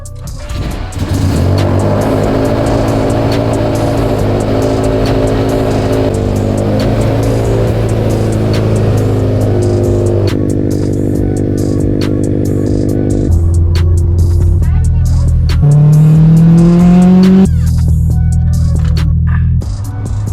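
A car engine runs and revs in a workshop setting around turbocharged performance cars, a strong steady drone shifting pitch in stages with rising revs near the end, loud and close.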